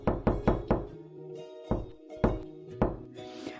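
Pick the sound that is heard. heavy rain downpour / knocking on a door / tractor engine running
knocking on a door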